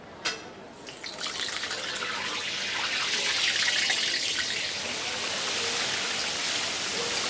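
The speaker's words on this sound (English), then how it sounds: "Let's rinse the old hands." Running water from a tap splashes steadily as hands are rinsed in a kitchen, a soft continuous hiss and patter that swells slightly after a brief clatter at the start, with no talk.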